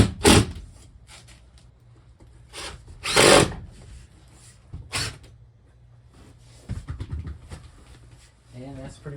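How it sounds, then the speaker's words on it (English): A power drill drives 3/4 screws into the plywood floor of a GMC RV under renovation, in a few short loud whirring bursts separated by quieter handling sounds, and a voice speaks briefly near the end. "screw it in with some 3/4 screws, and it makes it nice and solid"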